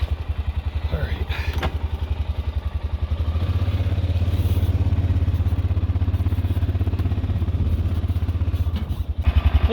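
An ATV engine runs steadily while towing a log trailer, a loud, close, rumbling drone with clattering that swells midway and holds before easing off.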